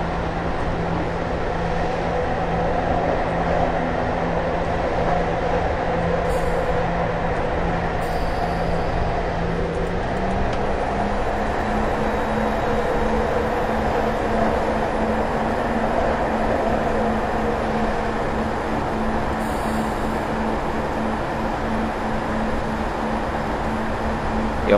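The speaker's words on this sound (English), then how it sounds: "Shortly I will be accelerating the train up to maximum for the uphill section of the tunnel." Train accelerating through a tunnel in Train Simulator 2018 on a Cardiff Central to Taunton run: a steady, enclosed engine drone whose pitch rises partway through, with faint clicks and hiss above it and no talking.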